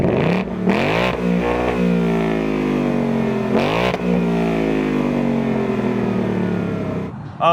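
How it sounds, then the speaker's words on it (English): A 2024 Ford Mustang GT convertible's 5.0-liter Coyote V8 revs hard several times, each blip rising sharply and then sliding back down to a throaty idle, loud and close with no talking. "The 5-liter Coyote has kind of a unique engine note, and it's a lot of fun"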